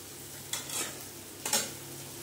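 Ginger stirred into golden fried onions in a pan for chicken kaliya: steady sizzling frying with two distinct scraping stirring strokes, close and moderately loud.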